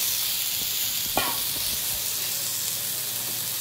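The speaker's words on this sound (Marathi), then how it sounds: "त्यात आपण हे बोंबील ह्याच्यामध्ये भाजण्यासाठी घालूया। चांगले हे तेलावर आपल्याला भाजून घ्यायचे बोंबील।" Dried bombil fish roasting in oil in a pan, a steady close sizzle and hiss throughout with a brief clatter of stirring near the middle, no talking.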